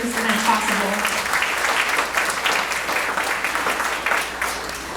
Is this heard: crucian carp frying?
no